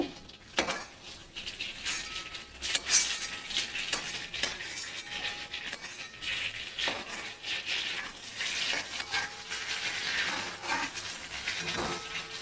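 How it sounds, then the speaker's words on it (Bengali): Shrimp frying in oil in a pan during home cooking, a soft continuous sizzle with stirring scrapes and occasional utensil clinks, faint and close, without talk. "আর ওইদিকে আমাদের চিংড়ি ভাজা চলছে"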